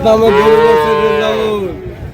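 A Sahiwal cow or bull at a livestock market gives one loud, close, drawn-out moo that falls away near the end, with faint crowd noise behind it.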